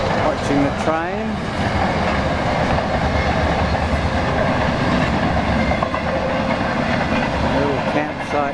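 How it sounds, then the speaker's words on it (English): A train rolls by close and loud on the Ooldea track, its wheels clacking rhythmically over the rails, with a brief squeal early on. "watching the train"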